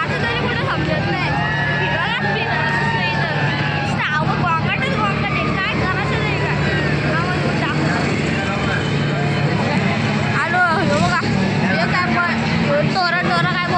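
Dense, constant crowd babble at a busy village jatra, loud and close, with many overlapping voices, shouts and a steady low rumble of engines or generators throughout.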